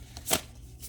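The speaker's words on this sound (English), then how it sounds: "One more good shuffle." Tarot cards are given a brief shuffle, one soft riffle of card edges flapping together in a quiet room, close and over within a second.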